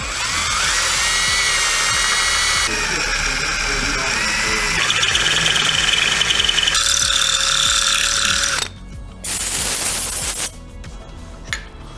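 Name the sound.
drilling a hole in engine block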